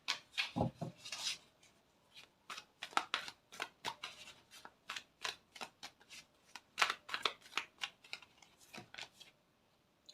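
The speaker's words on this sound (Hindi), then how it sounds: "देखो शफल कर रही थी ना" Tarot cards being shuffled by hand at close range: repeated quick riffling and sliding bursts in an irregular rhythm, soft but distinct, with no voice over them.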